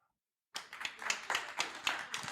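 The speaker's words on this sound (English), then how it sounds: "you vote by applause" Audience clapping to cast a vote, starting abruptly after a moment of silence and continuing as a steady, fairly loud patter of many hands for about two seconds.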